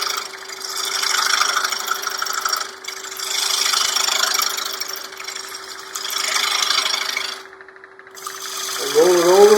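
A finger gouge drawn in pull cuts across a spinning winged wooden bowl on a lathe gives rasping, scraping strokes in several sustained passes over a steady motor hum, close and fairly loud, with a short voice near the end.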